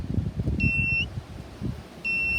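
A GD-2015 gold detector sweeping ground during an area scan beeps on a buried target: two short, steady electronic tones about a second apart, clear above low rumbling handling noise.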